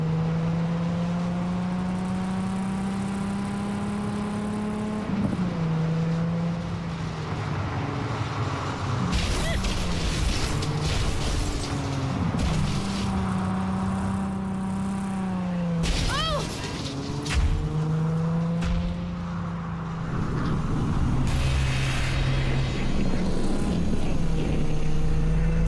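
Engines of cars racing in Cyberpunk 2077 hum steadily and loudly, their pitch climbing and dropping through gear changes, with intermittent harsh bursts of noise layered over the drone.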